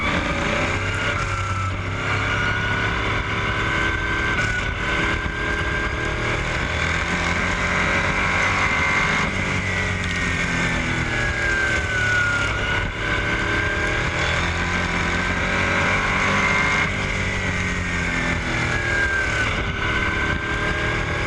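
Race cars roaring around the asphalt oval at Lee Speedway on a restart, a steady loud engine drone with pitch sweeps as cars pass, continuous throughout with wind buffeting.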